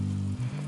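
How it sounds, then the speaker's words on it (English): Caramel for popcorn bubbles in a saucepan, giving a brief, soft, steady hiss under a low hum, with no talking. "it's starting bubbling away."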